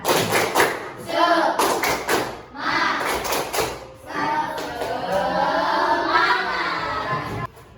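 Primary schoolchildren in a classroom performing the tepuk semangat clapping chant, sharp rhythmic bursts of group claps alternating with chanted voices, ending in a longer sustained stretch of sing-along.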